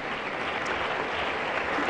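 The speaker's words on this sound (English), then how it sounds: "so we'll give them an applause." Applause for the Upper West Regional House of Chiefs at a peace event, an even, fairly distant wash of many hands clapping for two seconds without pause.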